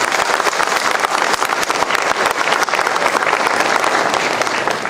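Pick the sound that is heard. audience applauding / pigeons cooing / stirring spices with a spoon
audience applauding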